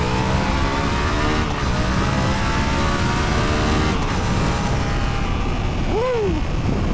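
A loud, close car engine roars steadily and revs higher as it picks up speed, with a continuous rushing road and wind noise throughout.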